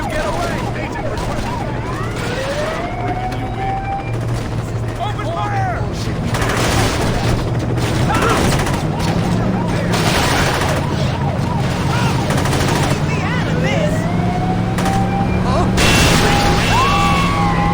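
Bursts of gunfire in a video game during a police chase and arrest, rapid shots and booms mixed with excited shouting voices over a constant background rumble.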